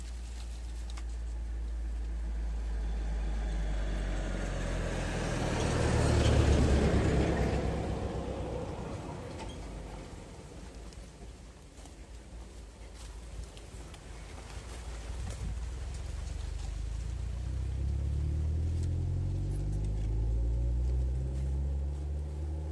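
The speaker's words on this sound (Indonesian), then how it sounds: "kita akan melihat nantinya berapa banyak kendaraan yang bisa lewat di sini" Vehicles pass along a flat road, a broad rushing swell building and fading as one goes by around the middle, with steady rumbling traffic and wind noise throughout.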